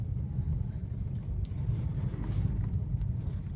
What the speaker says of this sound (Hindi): गाड़ी चल रही है अपनी आराम से